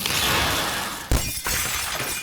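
Glass shatters amid ripping, groaning metal during an earthquake in a city, a loud crash of debris that breaks off, hits a sharp impact and then continues as scattered crunching and tinkling.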